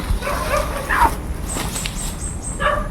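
A dog brought along by the opposing side barks and whimpers in short yips, fairly close and loud, several bursts over a noisy background.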